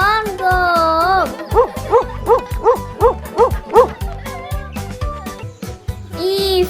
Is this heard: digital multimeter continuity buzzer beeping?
no